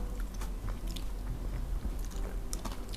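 Someone chewing a bite of beef during a Japanese seafood omakase box tasting, with soft, continuous close-up mouth sounds against a dense background.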